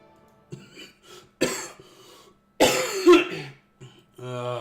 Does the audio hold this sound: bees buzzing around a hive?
no